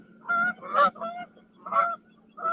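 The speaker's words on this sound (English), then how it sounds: "Those geese are loud." Geese honk loudly outside a Target store, a series of close, nasal calls in short bursts with pauses between, over a faint low hum.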